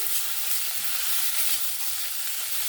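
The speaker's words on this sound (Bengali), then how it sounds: "আলুটাকে দিয়ে আমি মশলার সঙ্গে ভালো করে একটু ভেজে নেব" Diced potato frying with spices in a pan, a constant hissing sizzle with soft scraping as it is stirred, close and even throughout.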